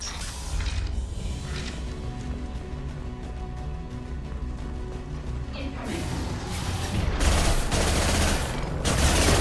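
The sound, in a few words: gunfire in the video game Mass Effect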